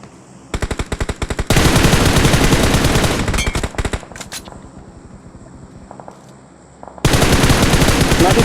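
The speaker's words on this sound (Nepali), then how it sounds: "यहाँ दुईटा गोली चलेछ" Automatic gunfire from PUBG Mobile comes in loud, dense bursts, a quick rattling volley, then long sustained firing, scattered single shots, and another heavy burst at the end.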